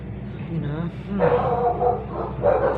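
Dogs next door bark in a few rough, muffled bursts, heard from a distance through the walls of a house and mixed with other indistinct household noise.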